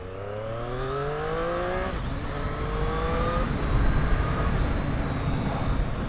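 A 2020 Triumph Street Triple RS motorcycle engine revving and pulling through gears on its first ride, loud and close, with rising pitch sweeps, a shift near the two-second mark, and strong wind rush underneath.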